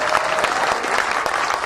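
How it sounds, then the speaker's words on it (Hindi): Clapping from the crowd at a kavi sammelan poetry recital in Deoband, a lively, sustained burst of many hands with sharp individual claps standing out, fairly close and loud with no voices over it. "आपकी तालियों की मुझे जबरदस्त जरूरत है"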